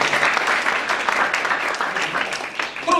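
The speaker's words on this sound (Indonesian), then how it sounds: "Tepuk tangan dong untuk ini." Steady audience applause, a crowd clapping continuously for a few seconds, loud and close.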